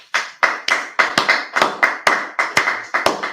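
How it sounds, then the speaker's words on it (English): A class claps in unison in a room: about a dozen sharp, loud claps in a fairly regular rhythm, each ringing briefly before the next, with no talking. "Clap it up."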